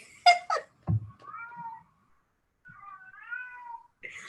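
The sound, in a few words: cat meowing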